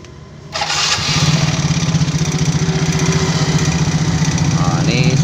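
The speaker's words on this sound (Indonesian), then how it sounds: "Motor Mio J kondisi suara mesin kasar." A Yamaha Mio J motorbike engine with a rough-running condition starts after a brief quiet moment and settles into a loud, close, rapidly pulsing idle.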